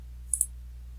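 A computer mouse gives two quick, crisp clicks close together, faint over a low steady hum.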